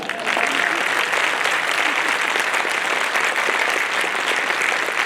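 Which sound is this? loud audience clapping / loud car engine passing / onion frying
loud audience clapping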